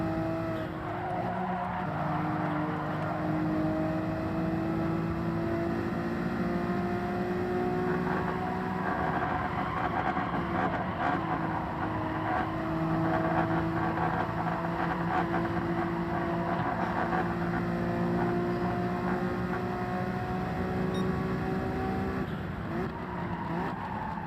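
A Honda NSX racing in Gran Turismo 7 gives a steady, rising engine drone that holds loud and continuous throughout, with no talk over it.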